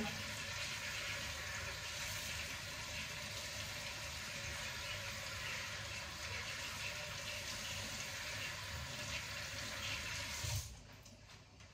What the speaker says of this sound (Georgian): წყალი მოდის ძლივს თბილი რაღაცა